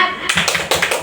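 A group of women performs a quick rhythmic clapping routine, tepuk semangat, with sharp, closely spaced claps in a patterned beat, loud and close.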